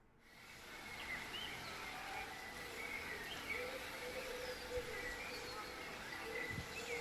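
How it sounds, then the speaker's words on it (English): Faint birds chirp and tweet in a quiet outdoor setting, scattered calls over a soft steady background hush. "Hearing birds"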